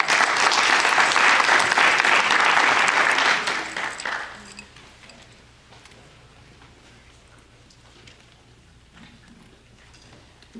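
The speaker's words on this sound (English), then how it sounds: "let's give Mrs. Erica Freeman Jones a round of applause" A graduation audience claps loudly for Mrs. Erica Freeman Jones, a dense, even burst that holds for about four seconds and then fades abruptly to scattered claps and a quiet room.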